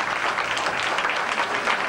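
A crowd at a ceremony marking a town's first traffic light claps together in a dense, even burst of applause, close and loud from start to finish.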